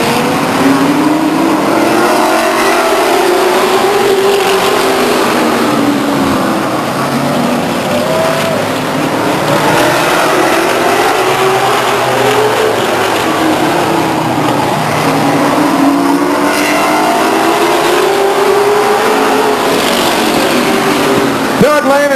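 Race cars circle Stockton 99 Speedway, their engines a loud, continuous roar that swells and fades in waves as the pack laps the short oval, with an announcer's voice over the top.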